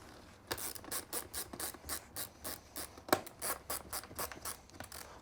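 Ski boot buckles are ratcheted tight during heat molding, giving a regular series of about a dozen close, crisp clicking ratchet bursts, each short and evenly spaced, with one sharper snap in the middle.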